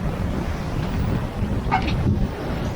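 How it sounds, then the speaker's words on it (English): Sea waves and wind while sailing against the waves in a strong Meltemi wind in the Aegean Sea between Naxos and Amorgos: a loud, continuous rush of wind across the microphone over churning water, with no voices. "for sure we are going against the waves, so we are going fast"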